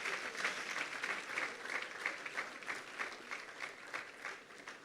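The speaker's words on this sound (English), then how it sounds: "please applaud this" A conference audience applauding with sustained clapping that swells and fades unevenly, a dense patter of many hands heard at moderate distance.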